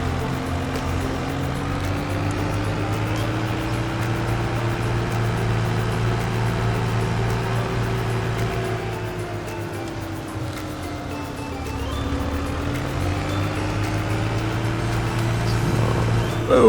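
A Mahindra vehicle driving in an Iowa Plains farming video game, a steady engine drone with a low hum and a pitch that rises and falls gently as it moves, continuous throughout with no talk.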